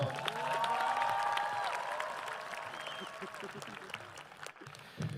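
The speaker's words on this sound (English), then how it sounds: "give our 2023 valedictorian, Brian Ahn, another round of applause" Audience applause for a high school valedictorian at a graduation ceremony, a distant, moderately quiet wash of clapping and crowd noise with some voices and cheering mixed in, gradually thinning.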